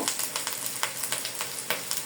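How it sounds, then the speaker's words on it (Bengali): Shredded cabbage frying in a pan is stirred, with a steady sizzle and quick scraping strokes of the spoon repeating close by. "আর এই যে আমি বাঁধাকপি একটু ভালো করে নেড়ে দিব"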